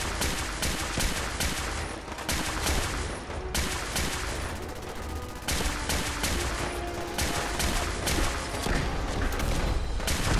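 Radium rifle gunfire in Fallout 4, loud bursts of rapid repeated shots, briefly broken by short pauses and then resuming, with nobody talking.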